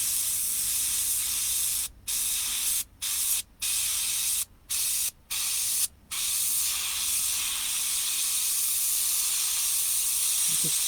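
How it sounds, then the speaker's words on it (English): Airbrush spraying paint onto an RC car body shell, a steady close hiss broken by several brief silent gaps as the trigger is released, then a long continuous spray, with no voices. "It just sprays effortlessly."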